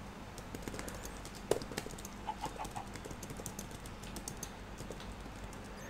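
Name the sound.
typing on a computer keyboard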